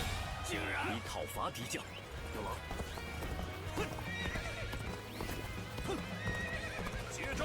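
In the video game Dynasty Warriors Origins, hooves clip-clop steadily while a horse whinnies and snorts nearby, with speech mixed in beneath the movement.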